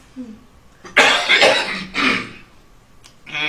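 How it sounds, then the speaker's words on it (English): A person coughs several times in a short harsh burst, close and loud, then a final small cough after a pause. "Excuse me, I got a cough."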